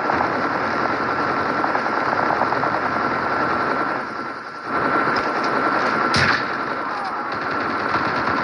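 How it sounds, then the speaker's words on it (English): A friendly stealth helicopter flies in during a Call of Duty match, its steady loud rotor drone buried under continuous rapid gunfire, with a brief dip midway and a sharp burst near the end. "Friendly stealth chopper inbound."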